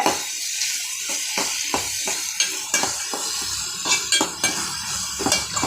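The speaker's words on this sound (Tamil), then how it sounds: "பாருங்கள் மக்களே, இந்த மாதிரி வதக்கிக்கோங்க" Onion and green chilli sautéing in a pan, a steady close sizzle broken by repeated sharp clinks and scrapes of a utensil stirring against the metal.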